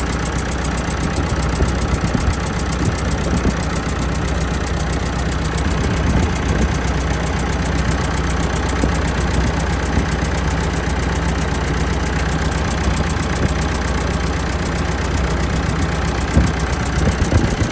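A Massey Ferguson 180 diesel tractor engine runs steadily with a faulty injector, giving a loud, close, unbroken mechanical drone with a rough knocking edge that continues unchanged throughout.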